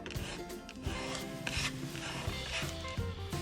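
Squeegee card pressed and rubbed over a honeycomb kit decal, giving a close, soft scraping and rasping that comes in short repeated strokes, fairly quiet and alone with no talking.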